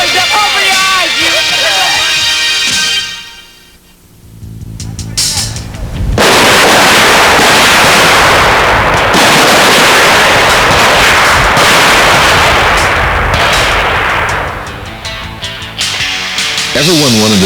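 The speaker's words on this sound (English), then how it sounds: "shooting the M16 rifle in full combat gear was tough" M16 rifles fire at a basic training marksmanship range, with loud, sharp, rapid reports in dense succession, a brief lull, then renewed heavy shooting close by.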